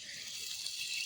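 Water pours into a pot for Maggi noodles at an outdoor jungle spot: a steady, close hiss of running liquid that lasts about a second, with no voices.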